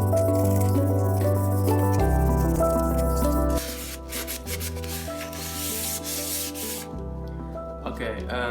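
Coarse sandpaper scrapes over a steel WWII M1 helmet in repeated close rubbing strokes, playing under steady background music with a pause partway through.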